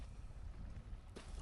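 A boat pulling up to an anchorage on a windy day, heard as a brief, quiet, low engine rumble mixed with wind buffeting the microphone.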